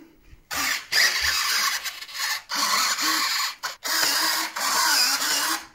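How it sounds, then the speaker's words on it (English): The small main engine fan of a 3D-printed RC VTOL jet model spins up with a high electric whine, running in several bursts separated by brief stops, close and loud, with no talking. "and the main engine also start swirling"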